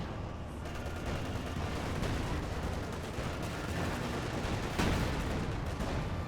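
Heavy battlefield fire from a Soviet IS-2 tank in the strategy game Company of Heroes 2, a dense continuous roar of cannon and gunfire with a louder thump near the end, no voices.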